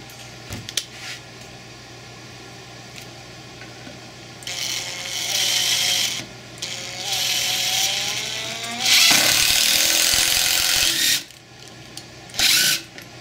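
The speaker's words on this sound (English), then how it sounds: "the screw head is just spinning in there. It's not impacting and it's not going down" A Makita Impact X impact driver whirs in several separate bursts as its bit spins in a slipping screw head without impacting, high-pitched spinning with short pauses between runs, close and loud.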